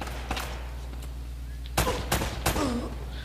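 Gunfire in Uncharted: Drake's Fortune, three or four sharp broadband shots in the second half of the clip over a steady low rumble, following a few fainter pops earlier, with no talk.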